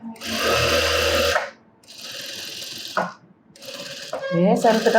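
An electric sewing machine runs in loud, steady bursts while stitching a garment lining at the neckline, stopping and restarting three times, with a voice talking briefly in the pauses.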